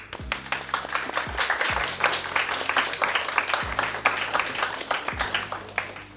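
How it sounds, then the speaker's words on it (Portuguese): Audience applause at the opening of a game jam in Brasília, with dense clapping throughout and low rumble underneath. "Palmas, palmas, palmas."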